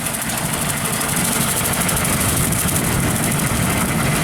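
A tractor engine runs steadily and loud throughout, driving a 15 ft Woods brush hog that cuts grass on a golf course, with a dense continuous drone and no talking.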